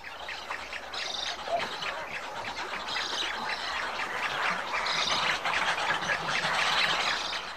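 Migrating birds call at breeding islands on the Nile, a dense, continuous chorus of chirps and squawks from many birds at middle distance, with no voices.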